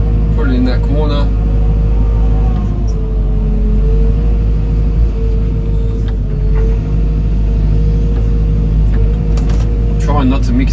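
Excavator working while moving sand, a heavy continuous diesel rumble with steady engine tone and occasional hydraulic whines and clanks near the start and end, someone talking over it.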